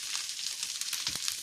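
Mustard seeds sizzle and crackle in hot oil for cumin-spiced pepper rasam, a steady close hiss with a few sharper pops, no voices.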